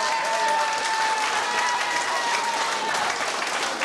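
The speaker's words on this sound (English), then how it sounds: "Round of applause, please." A dance-hall crowd at a 1989 club dinner dance in a hotel in Gortahork gives sustained, dense applause, many hands clapping evenly and loudly with a faint steady tone beneath and possible murmuring.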